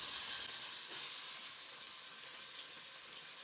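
Marinated chicken frying in hot oil for a roast gives off a dense, steady hiss and sizzle. It stays close and even from start to finish, with no voices over it.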